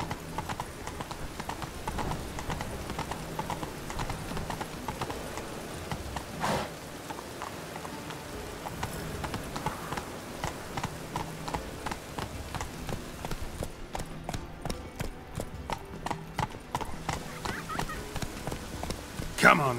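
Roach the horse gallops in The Witcher 3 with a steady, fairly near beat of hooves that runs the whole time, mixed with game ambience and occasional voices.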